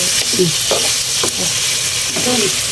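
Pork sizzles as it browns in a frying pan, a dense, steady hiss up close, with soft stirring scrapes and faint bubbling, and no one speaking.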